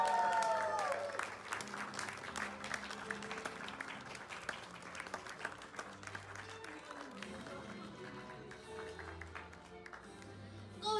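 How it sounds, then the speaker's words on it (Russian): Applause from wedding guests cheering the newlyweds, a dense steady crowd clapping that runs throughout, fading slightly toward the end, with some voices mixed in. "Похлопаем нашим молодоженам."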